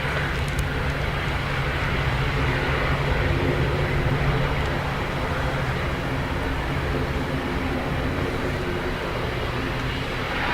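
A plane takes off at Dublin Airport in windy, wet weather, a sustained broad engine roar with low rumble holding steady and loud for several seconds, heard from nearby.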